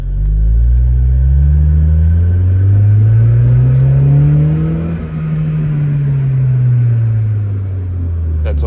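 Engine of an Acura TSX with a Yonaka exhaust revving in first gear, a loud, deep exhaust note that climbs and falls through several rising and falling revs, close and steady with no talk.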